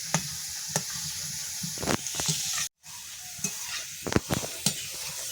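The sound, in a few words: potato chips frying in hot oil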